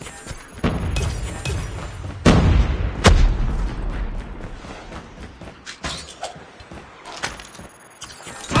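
Repeated explosions from the Swarm killstreak in the video game Call of Duty. Deep booms and sharp blasts land at uneven intervals, a few of them loud and close, with fainter thuds and crackles between them.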